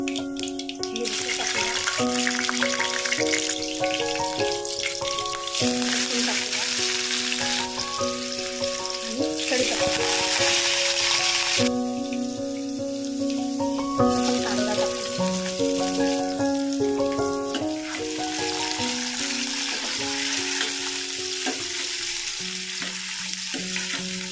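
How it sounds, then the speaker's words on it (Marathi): Mustard seeds and cumin sizzle in hot oil for tempering, a steady, fairly loud frying hiss that runs throughout beneath prominent background music. "राई तडतडली आहे थोडंसं जिरं टाकूया"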